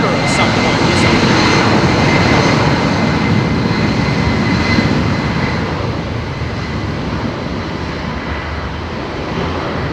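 A DHL cargo jet, an ex-passenger airframe, passes at Heathrow with a strong continuous engine roar that is loudest early and eases slightly toward the end.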